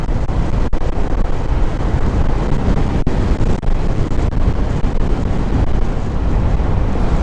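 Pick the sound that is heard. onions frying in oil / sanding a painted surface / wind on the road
wind on the road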